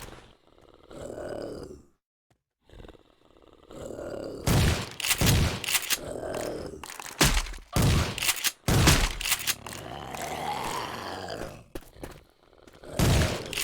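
Shotgun fire in the video game Left 4 Dead 2 during a one-on-one match, several loud sharp blasts at irregular intervals mixed with grunts and other game sounds, with a quiet gap early on.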